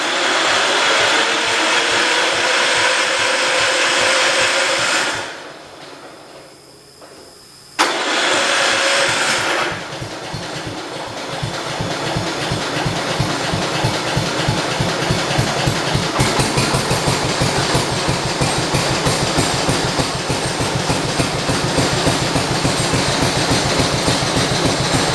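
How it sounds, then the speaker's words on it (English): A 1968 car engine is cranked over and catches, then settles into a steady, loud, close rhythmic idle that runs without a break. "Let's try and start this thing up again and see if we can get it to idle."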